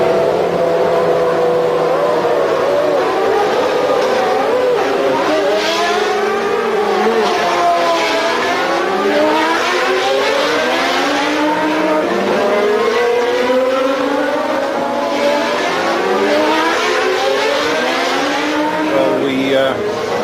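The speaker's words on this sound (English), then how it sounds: "As all the other cars move off on the warm-up lap, Michael's car coughs briefly into life and" McLaren Formula One race cars pulling away on the warm-up lap, a continuous loud, high engine whine with repeated rising and falling revs layered over each other for twenty seconds.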